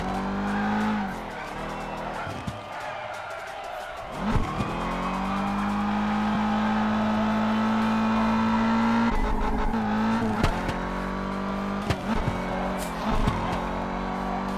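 A car in Forza Horizon revs hard through the gears, the engine note climbing and dropping at each shift, loud and close, with brief tire squeal and a faint voice over it.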